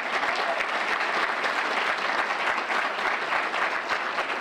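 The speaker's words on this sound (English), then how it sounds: "If you believe in justice, give yourself a hand clap." An audience in a hall applauding with hand claps, a dense, even roar of many people clapping at once that holds steady from start to finish, loud and enveloping.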